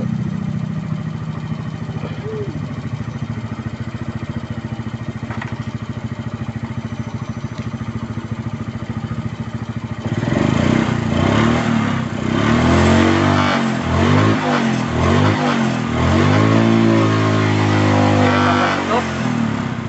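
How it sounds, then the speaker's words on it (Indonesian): Motorcycle engine revved to high RPM during a battery charging check, a loud sustained roar rising and falling in pitch over the second half after a steadier idle-like hum. "Jadi di sini saat motor RPM tinggi itu kita ukur"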